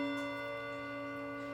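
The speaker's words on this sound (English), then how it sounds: "Never try and film a television production in a studio where there's a mantle clock that chimes every 15 minutes" Seth Thomas mantle clock ticking steadily in a quiet studio, faint and close, with a constant hum beneath and no voices.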